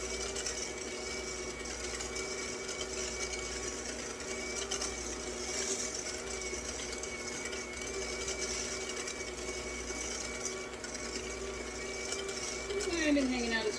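Stand mixer whipping Swiss meringue for macarons at a high speed, a steady motor whir with a constant whine that runs throughout, fairly loud and close.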